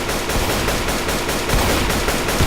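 Rapid automatic gunfire from the survival video game Rust rattles without a break for about two and a half seconds, loud and close, with no talking over it.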